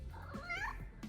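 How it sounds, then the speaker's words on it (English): A pet cat gives a single clear, close meow that rises and then falls, quiet and short, with soft shuffling around it and no talk. "And here's my cat."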